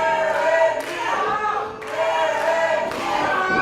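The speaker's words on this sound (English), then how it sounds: "As the crowd rallies behind the Bronze Bull" An indoor crowd at an IZW wrestling show roars and cheers for the wrestler called the Bronze Bull, loud sustained shouting that swells in waves with a brief dip midway.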